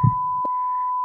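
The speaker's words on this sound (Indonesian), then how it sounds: "Lalu telepon pun dimatikan." A phone call ending with a steady, unbroken electronic hang-up tone that holds loud and clear after a brief low thump.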